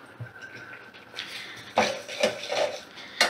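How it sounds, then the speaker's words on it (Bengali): Spoon stirring sugar into a sweet ripe mango and lentil dish in a pot, heard as a few soft scraping clinks against the metal over roughly two seconds, close and fairly quiet. "ভালো করে চিনিটা মিশিয়ে দেব।"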